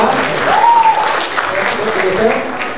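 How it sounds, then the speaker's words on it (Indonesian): An audience at a public lecture and book discussion applauds the lecturer, a steady dense wash of clapping filling the room while a voice speaks faintly over it. "Tepuk tangan dong buat dosen kita."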